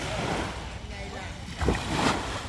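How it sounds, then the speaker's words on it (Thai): Surf breaking on a Thai beach by a seaside dining spot, a steady broadband wash with swells rising near the middle and end, heard under a voice. "ฟังเสียงคลื่น ฟังเสียงคลื่น"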